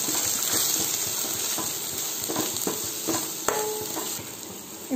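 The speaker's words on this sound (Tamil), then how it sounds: "இதில் நல்லா வதக்கிக்கோங்க." Onion and spices such as chili powder, turmeric and cumin sizzle in hot oil in a pan for mutton dhalcha, with a steady fry and repeated spoon-stirring scrapes close by.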